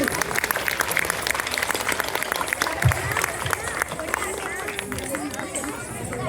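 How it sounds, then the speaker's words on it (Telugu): An audience at a Sai Ram kolatam team event claps loudly, a dense steady patter of applause with crowd chatter and voices running underneath. "అందరూ జోరుగా చప్పట్లు కొట్టండి."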